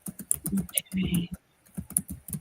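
Computer keyboard typing in short bursts of quick clicking keystrokes, close and fairly quiet, with a pause in the middle.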